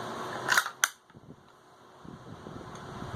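Pump-action shotgun with a tube magazine holding five shells plus one in the chamber is racked to chamber a round: two sharp mechanical clacks about a third of a second apart, close and loud, then quiet handling noise.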